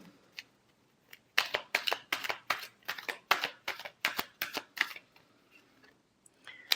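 Tarot cards are riffled and shuffled in a quiet room, a run of about fifteen crisp, close slapping flicks in quick rhythm after a few faint taps, with no voices.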